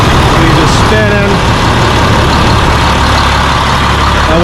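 A homemade gas-powered R134a refrigerant recovery machine running: a loud, steady low engine drone with rumbling harmonics, close by, with a voice briefly audible over it near the start.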